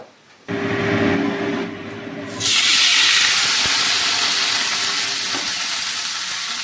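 Pumpkin and potato dropped into oil with panch phoron and bay leaf on a low flame set off a sudden loud hiss that settles into a dense, steady sizzle, after a faint electrical hum.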